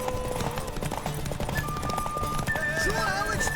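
Clopping hooves of a horse in The Witcher 3 keep a running rhythm up close, with tonal game sounds and possible voices layered over the hoofbeats.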